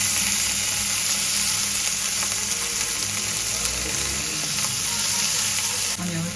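Curry leaves and corn roast in a pan for corn thecha, a dense, loud, continuous sizzle and crackle from start to finish with faint stirring underneath.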